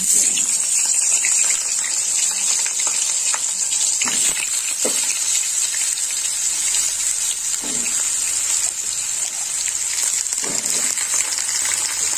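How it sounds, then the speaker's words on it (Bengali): Eggplant pieces fry in a pan of hot oil for a spinach vegetable curry, giving a loud, steady sizzling hiss that runs throughout with a few soft stirring knocks. "এবার আমি সবজিগুলো ভেজে নেব"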